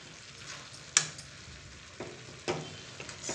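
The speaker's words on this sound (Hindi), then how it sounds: "बीच बीच में सब्जियों को चलाते रहना है" Carrot, pea and tomato vegetables stirred in a pan: a low, continuous sizzle broken by a few distinct scraping clicks of a spoon against the pan.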